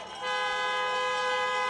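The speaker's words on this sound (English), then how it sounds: "Honk for your next United States Senators, John Ossoff and Reverend Raphael Warnock." A car horn sounds one long, steady, loud honk at an outdoor political campaign rally in Atlanta, starting abruptly and holding without a break.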